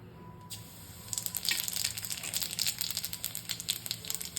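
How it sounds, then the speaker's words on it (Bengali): Radhuni and cumin seeds hit hot oil for a dal tempering, bursting into a dense crackling sizzle that starts faintly and swells after a second, then keeps popping steadily and close up with no talk. "তেল গরম হয়ে গেছে দু রকম ফোড়ন দিচ্ছি রাঁধুনি আর জিরে"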